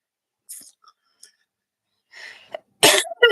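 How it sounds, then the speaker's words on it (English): A woman with a cold coughs near the microphone, a couple of sharp bursts toward the end after some faint breaths and quiet throat sounds in an otherwise silent room. "pardon me for coughing"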